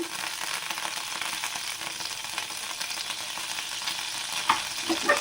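Butter melts on a hot tawa for an avocado sandwich, giving a steady close sizzle with a few sharper pops and crackles near the end; no one speaks.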